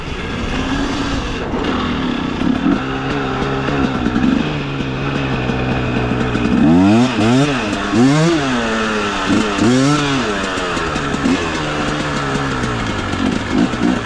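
A KOVI 300 Pro 2T two-stroke enduro motorcycle runs loudly and close, its buzzing engine holding steady before repeated quick throttle blips rise and fall in pitch across the second half.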